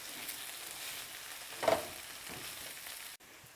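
Zucchini with fresh lemon zest being stirred in a sautéing pan with butter and garlic, giving a steady soft sizzle broken by one short scraping stir near the middle, fairly quiet and steady throughout with no voices.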